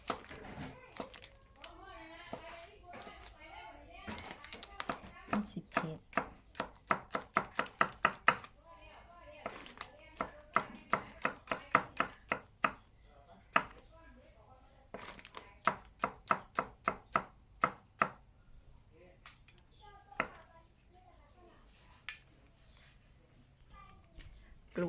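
Repeated knife chops through bananas on a cutting board, quick bursts of sharp taps with short pauses between runs, close by, with occasional faint voices.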